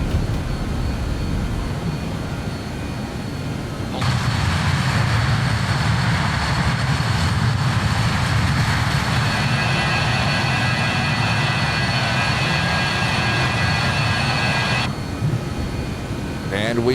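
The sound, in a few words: BAe-146 jet engines at takeoff in flight simulator game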